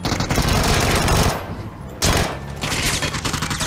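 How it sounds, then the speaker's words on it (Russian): Rapid automatic gunfire in PUBG from behind the player, a loud rattling burst that drops out for a moment and then resumes in fast volleys, with no one speaking. "Сзади кто-то стреляет, сзади, сзади кто-то стреляет"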